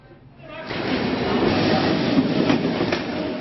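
A Mumbai local train rolls along the tracks close by, a loud rising rumble with rhythmic clattering of wheels on rails that holds steady once the train arrives.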